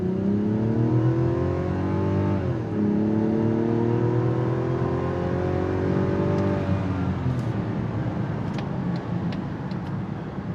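A 2026 Mazda CX-90 with the inline-six engine accelerates hard in sport mode, its engine note climbing steadily through the gears with a brief dip at a shift, then fading into road and tire noise, with no talking.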